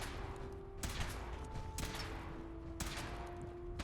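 Gunfire in Fallout 4 during a power armor suit test: a few separate sharp blasts, roughly one a second, over a low steady hum with a faint tonal whine, all fairly quiet.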